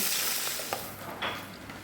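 Bay leaf, dried red chilli and whole cumin are frying in a little oil for a tempering, giving a steady close sizzle with a few sharp spitting pops and no talk.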